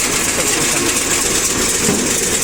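Round baler running under hydraulic power at a machinery yard in Blagoveshchensk, a steady mechanical engine drone with broadband clatter, continuous and fairly loud with no voices.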